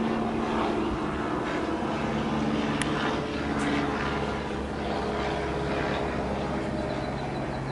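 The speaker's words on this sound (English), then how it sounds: "I'm gonna wait for that plane to pass." A propeller airplane drones overhead outdoors, a steady loud engine hum holding at near-constant level throughout as it passes.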